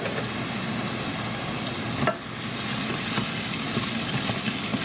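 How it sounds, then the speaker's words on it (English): Onions sautéing in a pan for shepherd's pie, a steady close sizzle with occasional stirring scrapes, one brief louder clatter midway, no talking. "So let's saute these onions."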